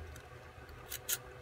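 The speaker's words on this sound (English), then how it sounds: "You've got this last little piece that you're going to cut literally" A small model airplane piece being cut in half, with two quiet, brief snipping or crunching sounds close by near the end, over faint background noise.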